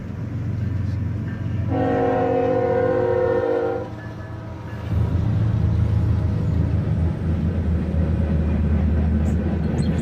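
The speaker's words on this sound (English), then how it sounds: "The Lehigh Valley Heritage Unit leads this train" Norfolk Southern freight train led by the Lehigh Valley Heritage Unit locomotive with an SD90MAC trailing, rumbling steadily close by as a loud horn blast sounds for about two seconds over the rolling wheels.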